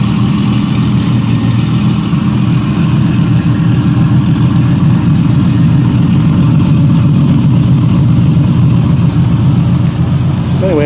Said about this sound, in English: Got them both idling, which is kind of nice to hear them together.